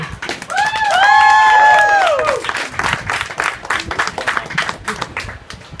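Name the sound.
comedy club audience applause for comedian Guy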